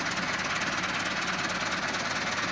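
Massey Ferguson tractors, MF 385 and MF 375, pull an MF 240 with a loaded trolley through mud, giving a steady, loud diesel roar with a rough knocking texture and no pauses.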